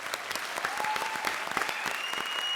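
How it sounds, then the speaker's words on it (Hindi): Audience applause for a film at a comedy show, a dense burst of clapping hands from a crowd filling the whole stretch at a steady, fairly loud level, with no talk. "जोरदार मेरी फिल्म के लिए ताली।"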